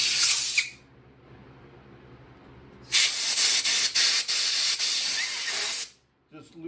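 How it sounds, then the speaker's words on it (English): An air compressor blows short, loud hissing bursts of air to loosen and slide the grips off a Trek 8700 Composite bicycle's handlebar, one brief blast and then a longer sustained one, separated by quiet. "I use an air compressor to do this."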